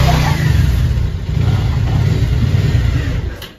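A car engine growls loudly as the vehicle is driven up a slope, holding a steady, heavy rev before easing off near the end.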